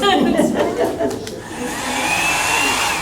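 Hair dryer blowing on a painting during an art demonstration: a steady loud whooshing motor roar that carries on throughout, with a person talking and laughing briefly over it at the start.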